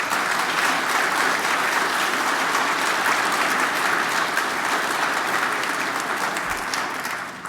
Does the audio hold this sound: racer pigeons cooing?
no